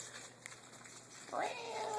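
A single drawn-out cat meow rises and falls near the end, following a quiet stretch of faint room noise.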